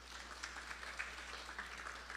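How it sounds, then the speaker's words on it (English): Faint, distant applause at a Krishna Mandir Sunday morning service in honour of a birthday, a soft even patter of clapping under a steady low hum. "So give him a round of applause"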